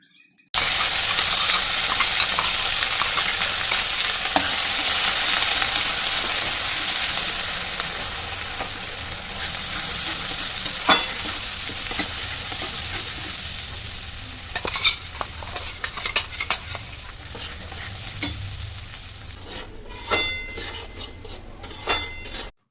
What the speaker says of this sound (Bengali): এই মশলাটা ভালো করে ভাজা ভাজা মতো করে নেব